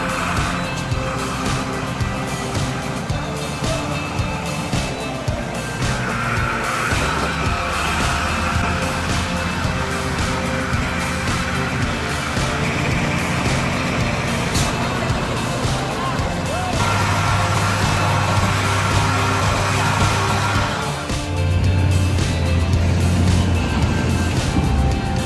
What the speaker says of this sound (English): he is trying very hard to pull the truck carrying wood over the slope